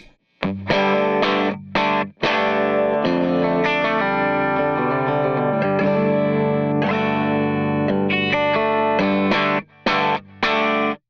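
Clean electric guitar through amp captures with EQ, a TeddyTones Cleanwater V2 demo, plays loud ringing chords and picked phrases with a few brief stops, no voices over it.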